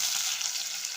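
Large onions sizzle steadily in a hot pan for egg gravy, with continuous close frying and faint stirring throughout; no voices.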